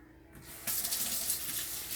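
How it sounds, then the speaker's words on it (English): Water runs from a kitchen tap during handwashing with soap. The steady hiss starts softly and jumps louder partway through as the flow increases, with no talking. "Some more water and soap on these hands."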